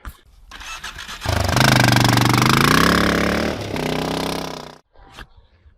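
A Yamaha AG200 motorcycle engine during clutch control practice, revving loud and close for several seconds, dropping to a lower steady drone, then cutting to a brief quiet before a short burst resumes.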